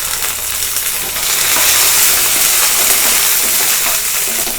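Green chillies and coriander seeds frying in half a tablespoon of hot oil for curd chutney, a loud, close, continuous sizzle with steady crackle and no voices.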